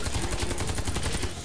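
Rapid automatic fire from an anniversary-edition weapon in the shooter game Warface: a fast, even stream of sharp shots in a short burst, with no talking over it.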